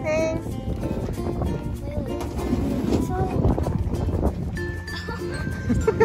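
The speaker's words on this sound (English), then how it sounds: "We are sailing in the boat." Wind buffets the microphone over the rushing wash of a boat moving through water, with people talking nearby.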